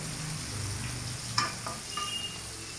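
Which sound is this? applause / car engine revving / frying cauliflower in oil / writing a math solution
frying cauliflower in oil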